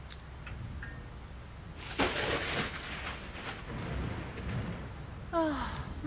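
Thunder from a storm in a French cartoon, a broad low rumble swelling at about two seconds and rolling on under ambient noise, with a sharper crack near the end.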